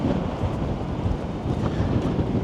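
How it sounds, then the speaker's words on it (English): Strong gale-force wind at the Blackpool seaside pleasure beach, a loud, continuous roar buffeting the microphone with low rumbling gusts and no pauses, no voices. "And this is the wind at the pleasure beach."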